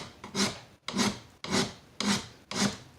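A metal file rasps along the edge of a spear point neck knife blade to flatten it, in five even back-and-forth strokes with short pauses between them, close and clear with no talking.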